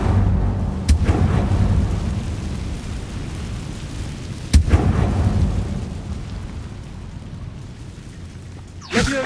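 An Incendio fire spell is cast in Hogwarts Legacy, two sharp bursts a few seconds apart, each with a loud whooshing impact and a rumbling tail, with another quick crack at the end.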